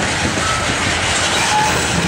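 CSX manifest freight train with a BNSF locomotive lash-up rolling past at Mt Holly, a steady loud rumble and rail noise with continuous clickety-clack, no voices.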